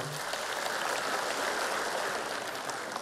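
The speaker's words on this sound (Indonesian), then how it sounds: "Tepuk tangan untuk Pak Mardiono." A dense, steady wash of crowd clapping at an Indonesian political party gathering fills the whole stretch, evenly loud with no pauses and no voices standing out.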